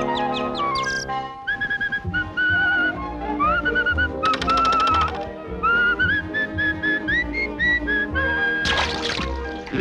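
Tuneful whistling with sliding, warbling notes over a busy musical background in a 1947 cartoon, steady and fairly loud throughout.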